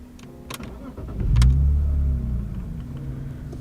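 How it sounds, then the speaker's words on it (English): A BMW E46 car engine starting, a brief starter crank, then the engine catching with a deep rising surge that settles into a steady idle, close by with no talking. "Let's start the car."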